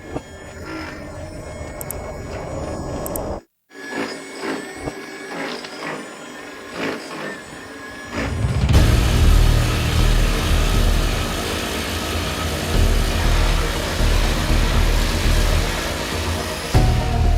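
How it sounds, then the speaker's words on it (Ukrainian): A grinding machine works on a railway rail, starting as a thin whine broken by a short gap, then swelling into a loud, dense, continuous grinding roar that lasts to the end. "Тож вмикаємо шліфувальну машину і шліфуємо, доки не залишиться максимум 1 мм матеріалу."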